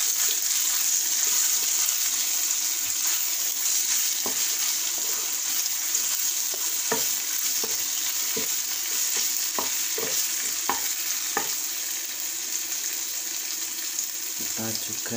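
Garlic, shallots, chili and candlenut sautéing in hot oil, a steady close sizzle with repeated scraping stirs of a spatula in the pan, plus some faint running-water noise in a student kitchen.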